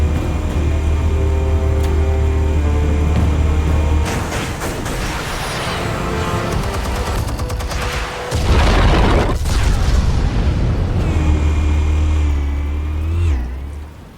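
Explosives detonating in the Batman Telltale game, heavy booms and rumbling blasts over loud low droning, with a big surge near the middle before the sound tapers off.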